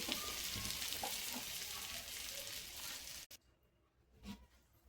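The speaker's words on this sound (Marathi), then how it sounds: "5 ते 7 मिनिटांसाठी याला फ्राय करायचं आहे." Paneer cubes frying in oil for tikka masala, a dense close sizzle that cuts off sharply partway, leaving a faint quiet stretch with one soft bump.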